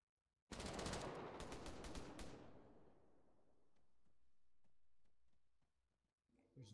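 Sustained automatic gunfire in the video game Arma 3, a loud dense volley of shots lasting about two seconds, then a lingering rumble with faint scattered distant shots.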